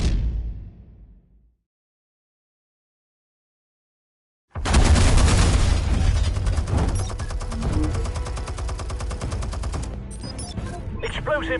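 Gunfire in the Batman Telltale video game: after a fading opening and several seconds of silence, a sudden loud burst of rapid shots erupts and continues as dense, sustained firing to the end.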